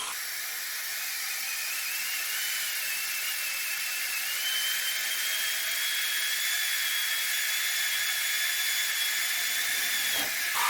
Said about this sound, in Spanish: Haré la perforación exactamente de 1/4 de pulgada,